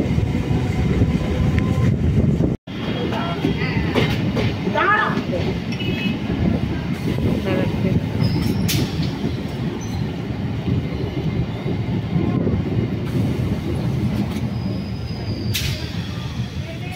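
A suburban train rolls into Padmapukur, a small station near Shalimar, heard from on board as a steady rumble of wheels with occasional squeals and clatter, fairly loud and continuous, with a brief dropout early on and faint voices underneath.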